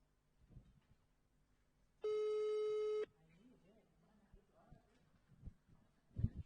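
A single loud telephone tone sounds for about a second during a call that goes unanswered, surrounded by quiet room noise and faint talking.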